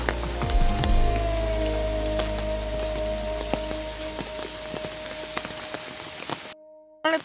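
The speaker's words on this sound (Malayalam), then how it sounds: "മഴ കുറച്ചും കൂടി കൂടി." Steady rain falls on surfaces outdoors, a dense even patter with scattered louder drops, continuous and fairly close before cutting out abruptly at the end.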